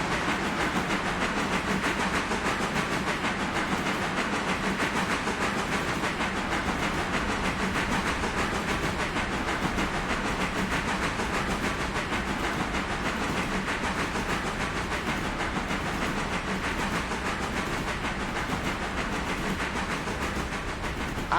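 A train runs in the railroad video game Railroader with a steady, continuous rolling rumble and a hissing wash of noise. It is loud and even for the whole stretch, with no talking.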